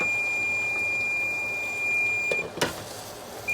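A kitchen timer beeps while garlic shrimp cooks, sending out a short series of thin electronic tones over a low steady hum, with a couple of clicks toward the end.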